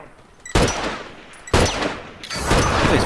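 Gunfire in The Last of Us online multiplayer match, three loud broadband bursts about a second apart, each a dense rattle of shots that trails into a sustained noisy tail.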